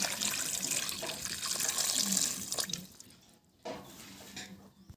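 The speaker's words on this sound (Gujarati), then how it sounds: "હવે આપણે બે કળશામાં પાણી રેડી દઈએ" Water splashes and pours steadily into a pot, then trickles off into a quieter stretch with a brief splash near the end.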